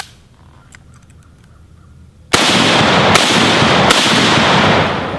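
Gunshots ring out at steel target plates on a shooting range, a sharp loud report followed by two more spaced shots, after a quiet stretch of faint background noise.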